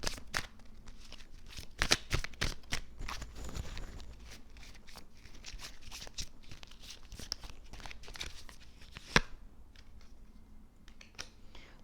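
Tarot cards shuffle and get handled close up, a run of sharp papery flicks and slaps at an uneven pace, with softer rustling between them and no talk.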